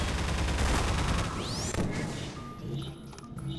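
Gunfire in Half-Life 2: Episode One, a dense loud burst of shots and crashing impacts that fades after a couple of seconds into quieter game noise.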